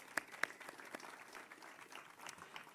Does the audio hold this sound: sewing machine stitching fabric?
no